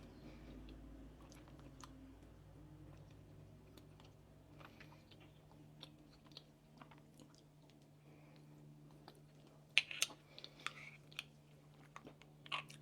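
Someone chews a spoonful of chia seed pudding, giving quiet, close, wet mouth sounds and soft squishes, with a few sharper clicks near the end against a faint low background hum.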